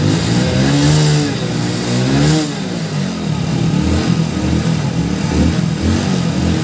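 Engines of four-wheeled vehicles, BS6 against BS4, rev and accelerate hard at a drag race start, loud and rising in pitch with a throaty, continuous roar.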